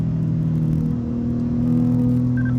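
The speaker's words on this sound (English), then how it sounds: "Throttle coming through here." A car engine holds a steady low rumble under throttle, with a faint whine rising near the end and no speech.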